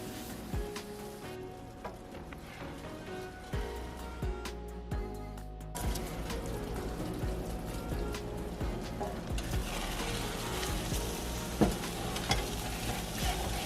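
Ground beef and egg hash fries in butter and fat, sizzling steadily in a pan while a utensil scrapes and stirs in frequent close strokes, with no talking.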